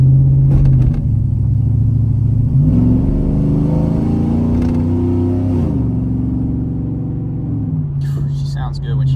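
Car engine revving and shifting through gears, the pitch climbing, dropping at each shift and climbing again, loud and close, with a brief burst of other noise near the end.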